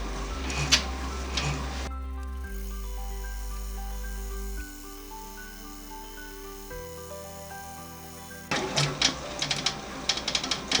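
An embroidery machine runs a tack-down stitch on felt for a Halloween treat bag. Stepped, shifting motor tones fill the middle, framed by busier bursts of needle clatter at the start and end, with no talk.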